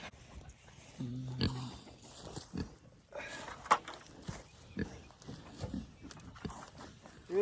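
Pigs on a farm give scattered short grunts and snorts in irregular bursts, close by. Rustling and footsteps move around them, and occasional quiet human sounds come through.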